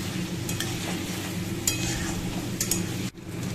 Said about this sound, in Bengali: পেঁয়াজগুলো একটু লাল লাল করে ভেজে নিতে হবে